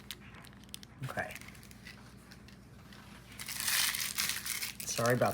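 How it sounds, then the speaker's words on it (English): A plastic piping bag crinkles loudly at close range in short bursts of crackling rustle, the longest near the end, with a voice talking between them. "My piping bags are so stinking loud."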